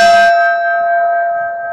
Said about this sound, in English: And in the bell's tone are the voices of the men, and we shall listen.